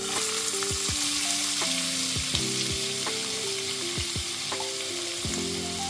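Asafoetida, bay leaf and onion fry in hot oil for a palak chicken dish, giving a steady, close sizzle that holds for six seconds beneath a background of tonal, music-like notes.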